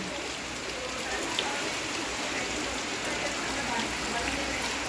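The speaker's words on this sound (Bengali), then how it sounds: "বাইরে প্রচণ্ড পরিমাণে বৃষ্টি হচ্ছে" Heavy rain pouring down outside at night, a dense, steady hiss of drops on surfaces that holds at an even level throughout with no voices.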